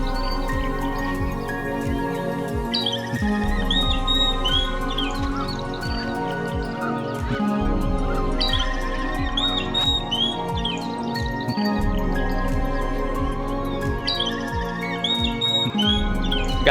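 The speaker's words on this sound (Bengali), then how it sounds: "এই শান্ত সকালে শুধু চারিদিকে পাখির কোলাহলই শোনা যাচ্ছে" Many birds chirp, tweet and squawk around a quiet village at dawn near tomato fields, with repeated calls overlapping continuously at mixed distances over a low steady hum.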